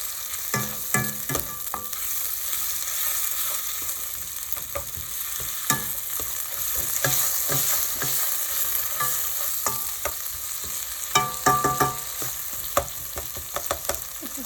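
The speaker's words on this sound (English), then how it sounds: "Just going to stir the tomato." Tomato and onion curry base is stirred as it fries in a pan, a steady sizzle under repeated scraping and clacking of the spoon, with a few sharper knocks near the end; no one speaks.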